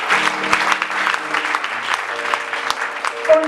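A church congregation claps together in sustained, dense applause, loud and close, with a few voices rising over the clapping.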